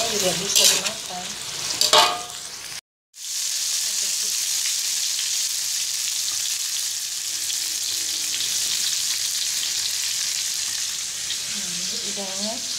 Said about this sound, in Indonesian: Udangnya kita goreng sampai agak garing